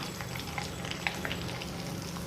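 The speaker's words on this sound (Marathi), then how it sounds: "आणि इथं साबुदाणा पापडी तळायला घेतले बघा" Sabudana papdi deep-frying in hot oil for a fasting snack spread, a steady close sizzle with faint crackles and a few brief pops throughout.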